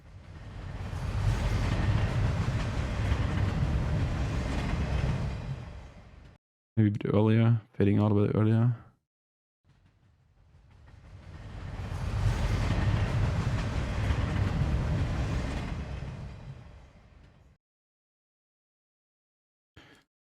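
A train sound effect for an animation swells into a loud, steady rumble, cuts out for a short spoken comment, then builds and fades away again before a stretch of silence.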